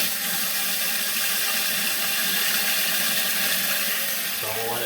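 Toilet tank refilling after the water supply is turned back on, a steady loud hiss of rushing water through the fill valve, constant throughout with a brief mechanical rattle at the very end.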